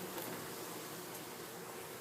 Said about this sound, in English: There you can see a drone bee right here.